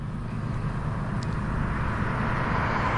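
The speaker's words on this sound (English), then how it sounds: "Let that car pass" A car passes on a road, a steady broadband rumble that stays loud and fairly even with no distinct approach or fade, alone without talking.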